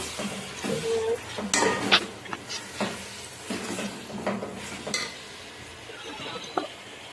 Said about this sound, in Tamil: இப்போ நம்ம போட்ட எல்லா மசாலாவும் தக்காளியில் சேர்ந்து நல்லா வந்து வதங்கும்